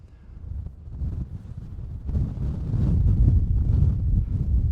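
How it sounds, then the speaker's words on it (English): Strong wind gusting across an open golf course, a steady low roar buffeting the microphone and building louder toward the end, with no talking. "It's windy as hell"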